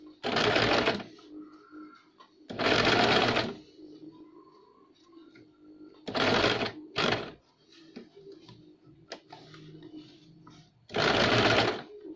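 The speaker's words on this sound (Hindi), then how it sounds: "अब इन्हें हम इस तरह से फोल्ड करके इनके साइड साइड से सिलाई लगाएंगे।" A domestic sewing machine stitching the back neck of a garment, running in four loud, close bursts of rapid whirring separated by quieter gaps with faint handling and fabric sounds.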